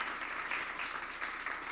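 A church youth group audience claps for its student council, a dense, steady burst of applause from many hands, moderately distant and continuous for the whole short stretch.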